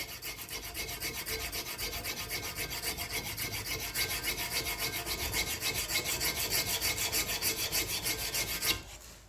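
Dagger blade sanded by hand with sandpaper, a steady rhythmic rasping rub repeating in quick strokes for several seconds, close and fairly loud, then stopping abruptly near the end.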